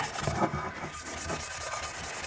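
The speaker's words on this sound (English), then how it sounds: "We're going to use some of this green pad." Green abrasive pad, roughly 400 grit, scrubbing a Dodge Ram 1500 differential cover by hand, a close, rhythmic raspy rubbing in quick back-and-forth strokes with no talk.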